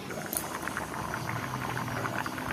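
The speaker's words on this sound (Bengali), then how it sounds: "জল দিয়ে দিয়েছি, ডিমের ঝোলে হতে লাগুক" An egg curry boils in a pot, giving a steady bubbling and popping simmer close by, continuous and fairly soft, with no talking.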